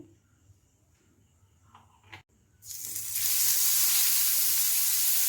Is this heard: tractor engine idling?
no